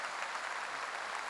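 A congregation at a Korean church revival meeting held for national peace claps together, producing a steady, dense wash of applause that stays even and fairly faint throughout.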